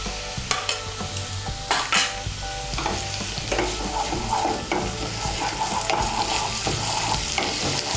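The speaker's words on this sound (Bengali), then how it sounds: "আদা বাটা, রসুন বাটা, কাঁচা লঙ্কা বাটাটাকে ভালো করে তেলের সঙ্গে মিশিয়ে নিয়ে আমি একটু ভেজে নেব।" Ginger, garlic and green chili paste fries in hot oil for egg malai curry, hissing steadily while a utensil stirs and scrapes the pan in irregular clinks, with no voices.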